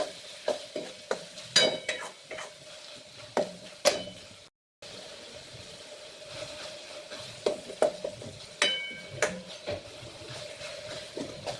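Tomatoes with salt cooking in a pan, a spoon stirring and scraping in irregular clinks and scrapes over a soft steady sizzle, close and fairly quiet, with one brief silent gap.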